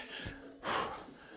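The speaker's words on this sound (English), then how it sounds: "Heavy breathing." A short, close breath sequence: a quick inhale followed by a heavy, breathy exhale, like someone winded and catching their breath.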